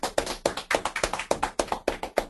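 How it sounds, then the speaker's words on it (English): A small group claps for a student in a GRE quantitative tutoring class, with sparse, uneven claps in a quick irregular rhythm, close by and fairly quiet, and no voices. "A big round of applause for Soumya"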